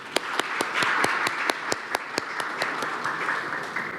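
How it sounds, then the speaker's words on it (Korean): A seminar audience applauds as a hospital cardiology department head is introduced, with a soft continuous clapping bed broken by a few sharp, distinct nearby claps at a fairly regular pace. "박수 부탁드립니다."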